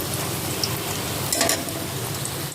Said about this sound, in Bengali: এগুলো ভাজছি